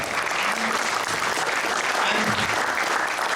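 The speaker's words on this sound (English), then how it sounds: "But round of applause for Herb." Loud, sustained applause from an audience at a folk music presentation, a thick, even roar of many hands clapping throughout with no pauses.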